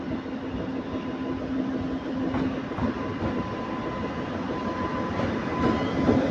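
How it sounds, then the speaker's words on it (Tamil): Mangalore Central express train rolls into an Indian railway station, a steady rumbling roll with rhythmic wheel clatter and faint metallic squeals, fairly close and continuous, with no talking. "மங்களூர் வண்டி வந்துருச்சுங்க."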